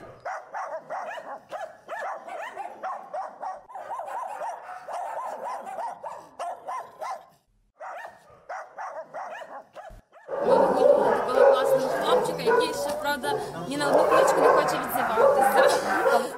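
A voice talks for several seconds, then a loud, dense chorus of dogs barking erupts at a Ukrainian animal shelter, many overlapping barks and yips close by.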